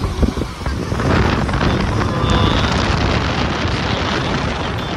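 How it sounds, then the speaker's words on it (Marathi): A large waterfall in the Konkan region roars as a dense, loud, continuous rush, with buffeting wind on the microphone and no clear pauses. "कोकण मध्ये बघा असला आम्हाला भारी धबधबा दिसतोय"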